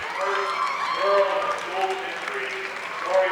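Crowd applause in a gym at a 1992 girls' high school basketball game celebrating a player's scoring milestone, steady clapping and cheering heard under a commentator's voice.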